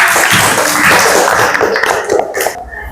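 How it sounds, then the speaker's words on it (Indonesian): Classroom applause during an Islamic religious education lesson, a loud burst of mixed clapping that fades, with a few voices near the end. "Ya, berikan tepuk tangan."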